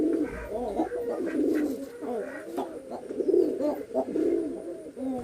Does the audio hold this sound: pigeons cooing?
yes